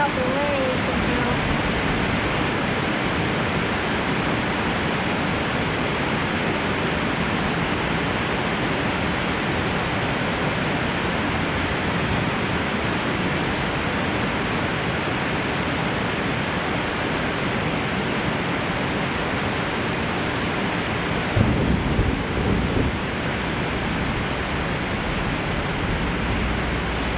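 Rain falls steadily outdoors around a Cub Cadet 382 Hydro lawn tractor under repair, a dense, even hiss that continues without a break and rises briefly in a short louder patch near the end.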